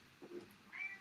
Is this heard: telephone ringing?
no